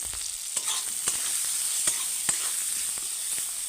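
Cauliflower and boiled potatoes seasoned with turmeric and salt frying gently in a pan: a soft, even sizzle with occasional sharp scrapes from stirring, and no one speaking.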